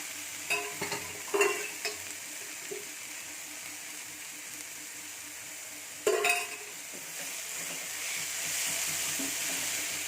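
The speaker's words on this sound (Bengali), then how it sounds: "আমি ভালোভাবে লাল লাল করে ভেজে নিচ্ছি অল্প পরিমাণে আর একটু তেল দিয়ে দিচ্ছি" A pan of white cooking oil frying spinach, a quiet steady sizzle with a few sharp clinks of a spatula against the pan and otherwise little else.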